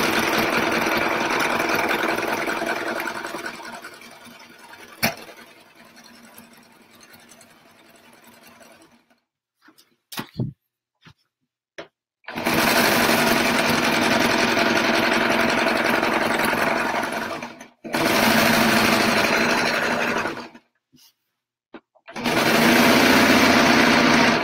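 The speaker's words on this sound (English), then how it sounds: "I'm just going to zigzag stitch all the way around." A sewing machine zigzag stitches around the edge of a rag quilt in loud, steady whirring runs, first one long run fading out, then several bursts broken by brief silences and small clicks.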